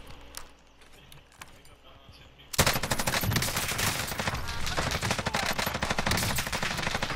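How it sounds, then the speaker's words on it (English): Call of Duty: Modern Warfare gunfire erupts after a quieter stretch of distant pops into sustained rapid automatic bursts, loud and close, continuing without pause to the end. "Yo, I'm getting fucking shot at."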